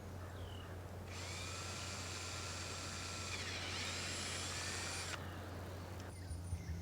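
An electric drill with a 5/16 bit bores into a gate pillar, a steady high whine running about four seconds before cutting off, over a constant low hum.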